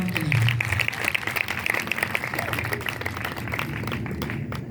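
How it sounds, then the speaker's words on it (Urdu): Church congregation clapping for the Lord, a dense, steady patter of many hands with a murmur of voices underneath, at moderate loudness throughout. "زوردار تالی بجائیں خداوند کے لیے"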